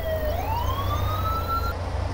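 Police car siren in the Thief Simulator video game, a single rising wail that sweeps upward and holds steady, loud and clear against a low engine-like drone, then cuts off.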